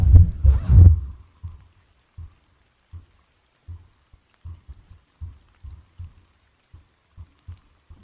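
Heartbeat picked up through a Blue Yeti X microphone, a low, soft thumping in an irregular string of faint pulses after a louder rustle at the start, with no talking.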